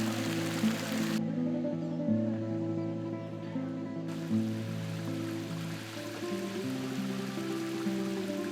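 Water flows steadily through the Generalife water garden at the Alhambra in Granada, a soft continuous wash heard beneath sustained, layered music.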